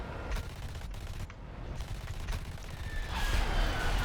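Cannon fire from an A-4E jet in an air-combat video game: a dense, continuous roar of rapid gunfire with sharper bursts and a rising whine near the end. It is loud and sustained.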